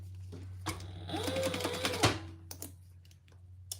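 A sewing machine stitching a fabric phone pouch, a quiet rapid mechanical whir of the needle running for about a second and a half between soft handling clicks and thumps, with no voices.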